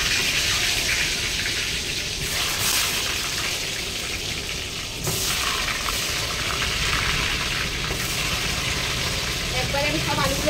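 Sliced potatoes frying in hot oil in a pan, a steady loud sizzle and bubbling crackle running continuously throughout, with a few brief clinks of stirring.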